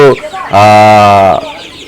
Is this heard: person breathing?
no